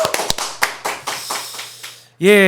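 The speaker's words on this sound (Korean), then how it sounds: "박수로 보내드리겠습니다." Studio applause sending off a political guest on a news talk show, a handful of sharp, uneven claps from a few people that fade out, followed by a voice speaking at the end.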